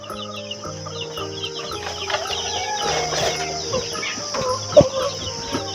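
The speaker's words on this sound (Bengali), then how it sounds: "বড় মুরগিগুলো আমরা, মোরগ এবং মুরগি, এটা আমরা দেখবো এখন" Roosters and hens in a country-breed poultry farm cluck and chatter in a dense, overlapping chorus, with calls rising near and far throughout and no talk.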